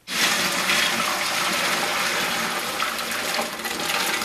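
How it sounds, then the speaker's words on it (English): Boiled pasta and its cooking water pour into a kitchen strainer in one continuous, splashing gush that rushes loudly and then eases slightly near the end. "All right, the pasta is all ready to drain, so I'm just gonna pour it into the strainer here."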